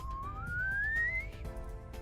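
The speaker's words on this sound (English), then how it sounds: "no slide whistle" A slide whistle sound effect: a single smooth upward-gliding whistle tone lasting about a second, over a low rumbling background bed.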